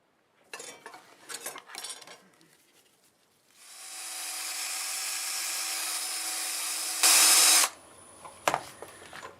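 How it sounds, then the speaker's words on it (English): Scattered clinks and handling noises give way to a steady, hissing sanding sound on a wooden turned bowl that runs for about four seconds before stopping. "I'll just sand that little nub off"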